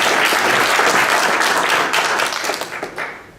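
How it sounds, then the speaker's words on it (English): At a fintech awards event, an audience claps loudly and steadily, and the applause tapers off toward the end as a speaker is welcomed to the stage. "Give him a round of applause."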